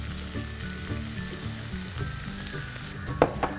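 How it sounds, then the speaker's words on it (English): Ginger and garlic sautéing with shredded cabbage in a pan, a soft steady sizzle under faint rhythmic low clunks, ending in a couple of sharp scraping knocks, no talking. "After you have sauteed the ginger garlic, you can now put in the shredded cabbage"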